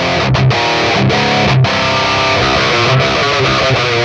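Electric guitar through a distortion effect in Bias FX 2, dialed toward a tone in drop C, playing loud, saturated chugging riffs with sharp palm-muted stabs and brief gaps, no talking.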